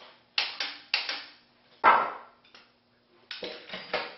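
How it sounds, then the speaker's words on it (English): A series of sharp metallic clicks and clanks from a torque wrench tightening connecting rod bolts on a six-cylinder Buck diesel engine, close and in short groups with pauses between them. "Torquing the rod bolts to about 75 foot-pounds."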